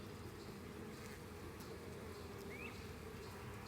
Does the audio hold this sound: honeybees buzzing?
yes